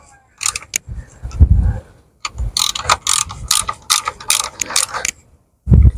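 Ratchet wrench clicking in quick bursts while tightening thermostat bolts during a water pump replacement on a Vauxhall Corsa D 1.2, close and loud, with pauses and heavier knocks between runs.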